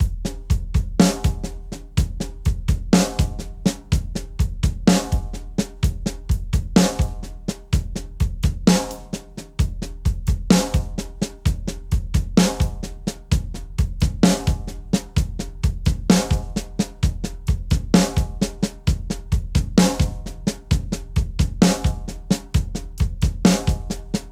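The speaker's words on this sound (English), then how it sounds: "I'm going to double the hi-hat with the bass drum." A drum kit plays a slow paradiddle groove in 13/16, with bass drum hits doubling the hi-hat in a repeating pattern.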